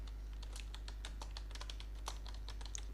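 Typing on a computer keyboard to enter a blog title on a Squarespace website: quick, irregular key clicks close by over a steady low electrical hum, no talk.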